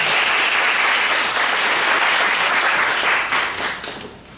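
An audience at a Westchester Library Association talk claps steadily and loudly as one continuous wash of applause, then thins and fades toward the end.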